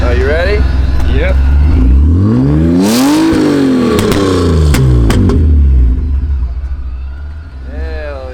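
A 1JZ-swapped car on its stock exhaust revs hard several times, the engine note sweeping up and down loudly, with sharp bursts and people talking in between.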